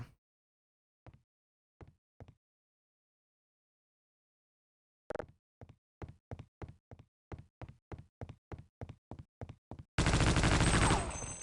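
Gunfire in Half-Life: Opposing Force: a few scattered single shots, then a quick run of evenly spaced rapid shots, ending in a sustained loud burst of automatic fire or explosion noise.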